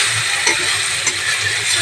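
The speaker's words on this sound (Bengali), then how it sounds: "এবার এটাকে আমি ভালো করে ভেজে নেব" Ginger garlic paste frying in oil in a pan, a loud continuous sizzle with light stirring scrapes, close and alone.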